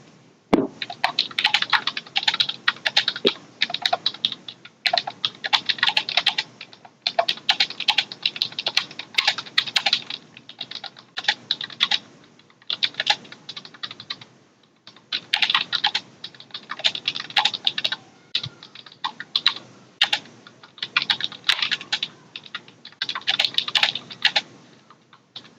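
Rapid, close typing on a computer keyboard, keys clattering in dense bursts separated by brief pauses, as a letter is written; no one speaks.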